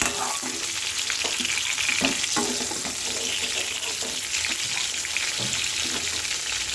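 Fried pointed gourd (potol) lifted out of hot oil, reddish and ready for a poppy-seed curry; a steady, dense sizzle of frying fills the whole stretch, with faint scrapes and clinks of the utensil mixed in.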